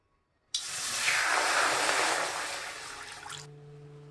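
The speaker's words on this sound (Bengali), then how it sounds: "শুটকি চিংড়ি একটু ভাপাই নেব তাই একটু জল দিয়ে দিচ্ছি" Water poured into a pan to steam dried shrimp gives a steady, close rushing hiss of about three seconds that starts abruptly and stops, followed by quiet.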